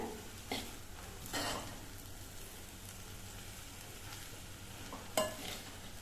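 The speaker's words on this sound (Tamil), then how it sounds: "நல்லா சாதத்தோட மசாலாலாம் சேர்ந்து வர்ற மாதிரி கிளறி விட்டுக்கிட்டே இருக்கணுங்க" Spinach rice with masala being stirred in a pan, a few soft scraping strokes with a light sizzle beneath, quiet and close, no voices.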